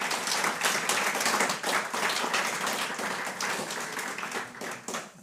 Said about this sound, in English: Please let's have a collective round of applause for everyone.